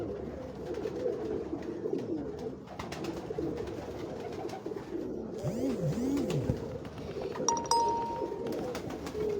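Kamgar jaldar cross-bred pigeons coo on a rooftop in Lahore, a steady, low bubbling chorus at moderate distance, joined near the end by a brief, clear bell-like tone.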